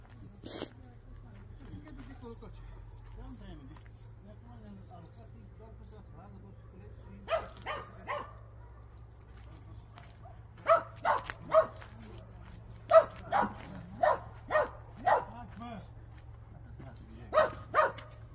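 A dog barks in repeated short bursts at a moderate distance, scattered through the second half over a steady low hum, with a brief quiet stretch before the barking starts.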